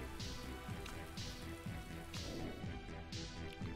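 Rain patters on a surface during a Motorsport Manager race weekend, with steady droplet noise and repeated soft thuds layered under it, loud and close, no voices.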